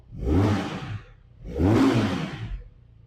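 A Bristol SRK 400 motorcycle's 400cc engine is revved hard twice in a row, each throaty roar rising and fading, loud and close with no talking.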